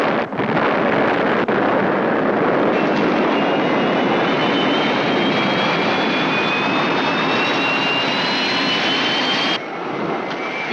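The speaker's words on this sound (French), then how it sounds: "Mise à feu. Décollage." Spacecraft engines roar at full power for takeoff, a loud, dense, continuous rushing thrust with a faint rising whine, holding steady for about ten seconds before dipping slightly near the end.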